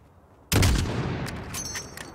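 A single loud gunshot cracks out suddenly and trails off into a long, rumbling echo, fired at a distant target in Call of Duty Modern Warfare.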